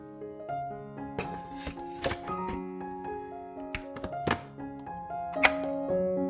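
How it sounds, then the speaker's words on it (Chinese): Tri-colour bell peppers are diced with a knife on a cutting board, giving scattered, irregular wooden thunks and taps over quiet background music. "切下各15克的3色灯笼椒，然后切成丁状"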